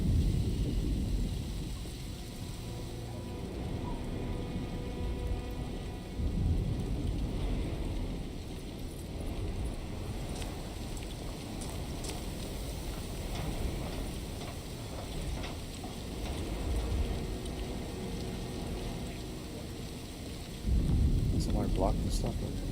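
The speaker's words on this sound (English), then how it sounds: "It's raining outside too." In the video game Alone in the Dark, steady rain hisses while low thunder rumbles and rolls on, with a louder crack of thunder near the end.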